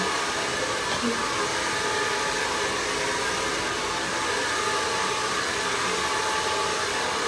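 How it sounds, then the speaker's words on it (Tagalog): A hair blower roars steadily and loudly at close range, drying long layered hair after a cut, with a constant airy whoosh throughout and no break. "Paharap po yung blower natin."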